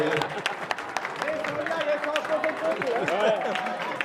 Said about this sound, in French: On peut applaudir Sonia aussi.